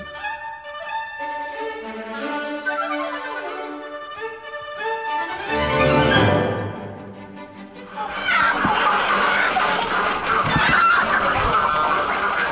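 Hens cluck in a busy overlapping chorus, then a loud rooster crows partway through, followed by a noisy burst of flapping and squawking fowl at close range.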